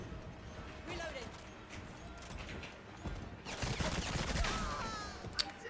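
Rapid bursts of video game gunfire crackle through a tense raid, dense and sustained over several seconds and heaviest near the end, with people talking over the shots.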